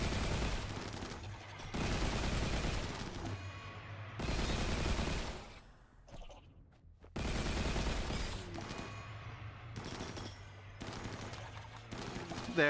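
Gauss rifle fire in a RimWorld battle: several long, dense bursts of rapid shots that come and go, with short pauses between volleys and a steady low rumble under them.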